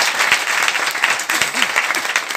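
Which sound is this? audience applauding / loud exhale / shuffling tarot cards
audience applauding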